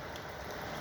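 Steady rain falls at a river ferry port beside a bridge over the Rio Negro near Manaus, a dense, even hiss of drops on surfaces with no talk.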